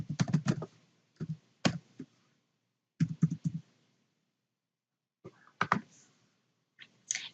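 Bursts of typing on a computer keyboard, quick clusters of crisp, close key clicks separated by short pauses, with no talking.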